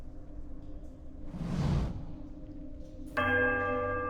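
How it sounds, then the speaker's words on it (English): A bell rings inside the Pillars of Eternity game world, a single clear metallic strike with a bright sustained ring, heard after a soft swooshing rush, alone and fairly close. "we ring like the right bell, then the middle bell, then the right bell"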